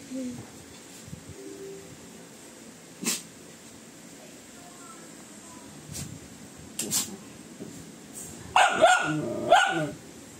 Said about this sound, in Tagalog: Kasi aso yan.